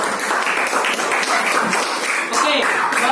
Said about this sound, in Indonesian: tepuk tangan untuk kelompok 2 dulu.